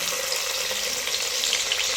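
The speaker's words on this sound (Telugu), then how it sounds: "ఇందులో తాలింపు గింజలు వేసుకుందాం." Tempering seeds spit and sizzle in hot oil in a kadai, a dense, even hiss that stays loud and close for the whole moment with no talking.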